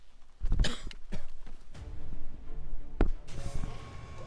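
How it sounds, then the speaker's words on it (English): A few sharp coughs, close by, with short pauses between them and a scratchy, throat-clearing quality, over a low room background, in the video game XCOM 2: War of the Chosen. "Who's coughing over there?"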